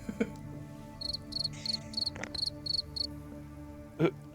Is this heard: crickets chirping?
yes